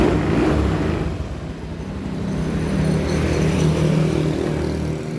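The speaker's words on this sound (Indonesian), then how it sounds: "motornya kembali nyala." A Honda Beat scooter engine idles steadily after being restarted, a close, continuous low mechanical hum without speech.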